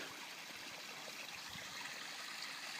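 A mountain stream rushes and trickles steadily near a park summit trail, a soft continuous flow with occasional gurgles and no voices.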